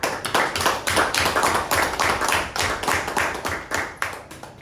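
A Toastmasters debate meeting audience applauds in a steady round of dense, fast hand claps, fairly close and continuous throughout with no talk over it.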